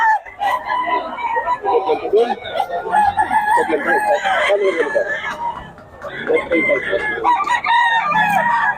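A young rooster, a stag, crows repeatedly in close, loud bursts with clucking fowl around, while people talk over it throughout.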